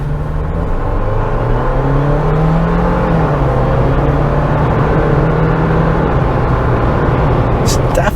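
A 2021 Jeep Wrangler Sahara 4xe plug-in hybrid speeding up from a stop, heard from inside as a loud, steady drive whine that climbs in pitch over a low road rumble.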